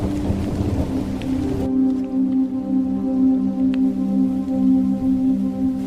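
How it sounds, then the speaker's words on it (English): Steady rain falls with a dense hiss of drops on surfaces, loud and close, a low rolling rumble like distant thunder running underneath for several seconds, no voices. "Rain happened."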